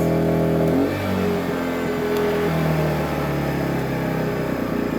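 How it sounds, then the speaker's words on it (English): A Bilt Hard TGA-0251 2000-watt inverter generator runs under load with a steady, close engine hum that shifts pitch early on as it settles into a constant drone. "So this is a 2000 watt generator, rated at 2000 watts continuous."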